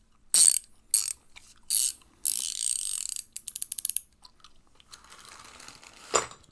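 A ratchet wrench clicks close up in several short bursts followed by a longer run of quick ticks, then a fast rattling sequence and a few quieter mechanical sounds.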